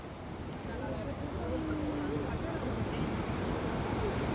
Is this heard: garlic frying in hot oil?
no